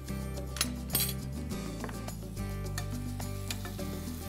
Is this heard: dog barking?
no